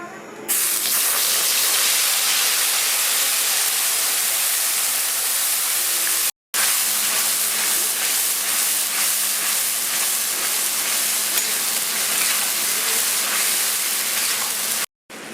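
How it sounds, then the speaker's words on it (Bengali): A blended paste of onion, ginger, garlic and tomato hits hot oil for paneer bhurji, a loud, steady, hissing sizzle that holds almost unbroken for about fifteen seconds, with two brief cutouts. "তেল গরম হয়ে গেছে এবার আমি পেস্টটা ঢেলে দিচ্ছি"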